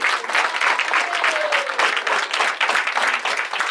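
A church congregation in Maritzburg applauds continuously, with dense, steady clapping that fills the room and never pauses.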